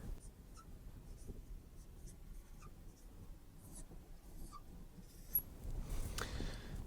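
Pen or marker strokes written by hand while working a logic proof example, heard as faint, scattered scratchy strokes over quiet room tone with no talking.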